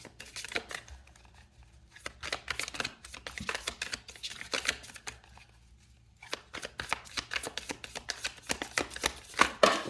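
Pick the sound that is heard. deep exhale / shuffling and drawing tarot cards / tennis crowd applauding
shuffling and drawing tarot cards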